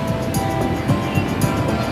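Sea waves wash steadily onto a beach in a continuous, rushing surf noise with soft periodic swells, heard close with no talking.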